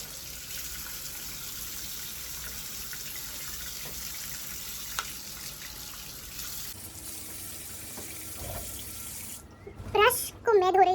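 Makeup brushes rinsed under a running tap, a steady close stream of water for most of the clip, then someone talks briefly at the end.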